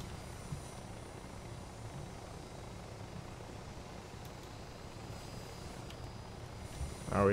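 Helicopter in the Arma 3 video game, a steady low rotor and engine drone running continuously throughout with no talk.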